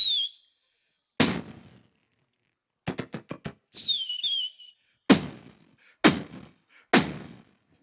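A voice imitates a fireworks mortar firing: a few sharp thumping bursts and whistling sweeps, with rapid pops in between, each burst clear and separated by silence.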